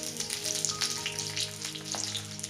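Peanut-stuffed capsicums fry in a pan with a steady, close crackling sizzle and scattered popping spatters, heard alone with no voices.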